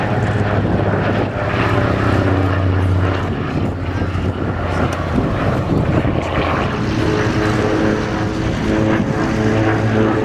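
Propeller aircraft flying at the Sywell Airshow, a steady loud engine drone with droning harmonics that holds throughout with no talk over it.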